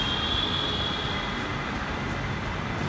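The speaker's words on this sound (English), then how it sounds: "So we're waiting for the train." A metro train moving at a station in Bangalore, India, giving a steady rail rumble with a thin high whine near the start, heard alone at moderate distance.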